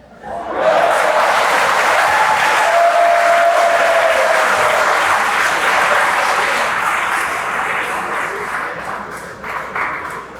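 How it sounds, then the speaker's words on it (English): Sustained applause from the audience at a commencement ceremony, a broad wash of many hands clapping that holds steady, then gradually thins and fades toward the end, with faint crowd murmur beneath. "Thank you for the applause."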